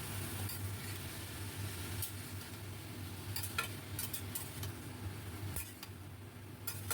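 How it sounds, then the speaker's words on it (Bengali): Salt-and-turmeric-coated prawns frying with pumpkin leaves in a pan over a high gas flame, a soft, steady sizzle with occasional light ticks and stirring scrapes, quiet and close. "খুব ভালো করে এবার শাকের সঙ্গে চিংড়ি মাছগুলোকেও ভেজে নেব।"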